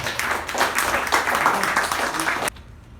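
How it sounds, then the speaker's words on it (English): A Toastmasters meeting audience gives a warm round of applause to welcome the Toastmaster, dense clapping that holds steady and then cuts off abruptly near the end, leaving quiet room tone. "The huge round of applause, please help me welcome Toastmasters."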